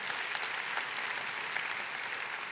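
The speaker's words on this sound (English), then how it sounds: "let's give him a round of applause" An audience applauds a speaker with steady, dense clapping that carries on at an even level for the whole stretch, heard from a slight distance in a hall.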